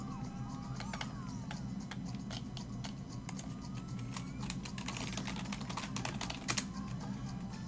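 Computer keyboard typing: rapid, irregular key clicks and taps at moderate distance, quiet and continuous over a low steady background hum.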